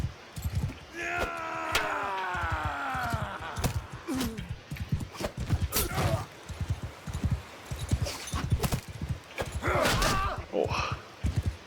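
Horse hooves clip-clopping in the Mount & Blade 2: Bannerlord video game, a steady close trot of hoofbeats running throughout, with a horse whinny and other battle noises layered on top.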